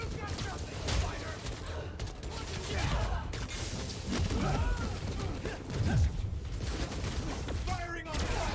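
Enemy gunfire in the video game Spider-Man: Miles Morales, rapid bursts and scattered shots mixed with mechanical clanks and creaks amid busy combat noise, with voices speaking over it.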